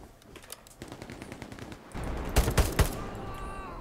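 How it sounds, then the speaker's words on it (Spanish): Machine gun fire in the World War II shooter game Hell Let Loose, scattered distant shots followed by a louder, closer burst of rapid rounds with sharp individual cracks. "estoy disparando sin apuntar"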